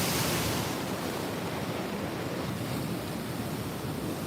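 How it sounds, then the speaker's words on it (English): Ocean waves crash against volcanic basalt rocks along the coast, a steady loud roar of surf and wash with wind rumble, heard up close without voices. "That's what some of these waves just hit here."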